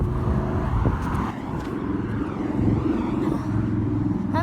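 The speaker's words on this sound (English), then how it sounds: "I'm yelling at the top of my lungs because there's cars" Cars pass by on a nearby road, a steady loud rumble with rising and falling engine and tire noise throughout.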